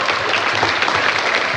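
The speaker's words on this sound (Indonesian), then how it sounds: "Tepuk tangan untuk Republik Indonesia" Dense, steady audience applause fills a hall at an Isra Miraj commemoration, loud and continuous with no pauses for its short length.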